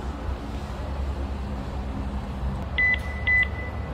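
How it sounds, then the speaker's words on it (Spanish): A Bbs Motion security dome camera gives its pairing signal: two short, clear electronic beeps in quick succession near the end, over a low steady background hum, with no speech. "Una vez que la cámara emite el sonido"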